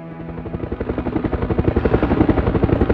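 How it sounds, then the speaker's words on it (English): A helicopter in the video game Resident Evil Survivor thrums with steady, fast rotor beats, loud and building slightly over three seconds, with no voices. "Helicopter!"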